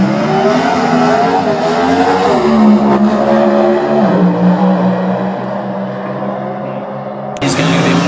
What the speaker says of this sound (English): The revs just start to build up again.